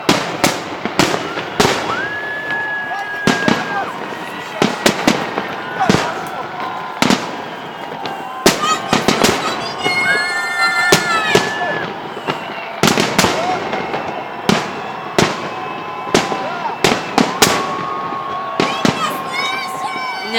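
Fireworks salute bursting at a city day celebration, a rapid series of loud cracks and booms with crackling fizz and whistles, over a cheering crowd and nearby voices talking.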